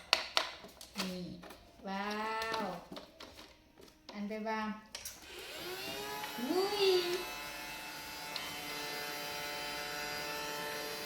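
A robot vacuum cleaner runs indoors after being switched on, with a steady, even electric hum that carries on alone once the people stop talking.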